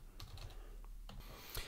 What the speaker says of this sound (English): I'm going to hold the shift key, press S